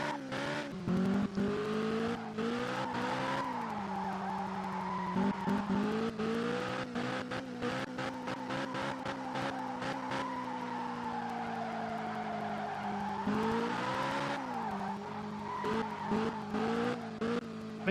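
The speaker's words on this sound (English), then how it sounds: "I do like the fact you can make this car skid like that." Tires skid and squeal on a car in the Real Racing 3 racing video game, long wavering screeches over a steady engine drone, loud and close, with repeated slides across the run.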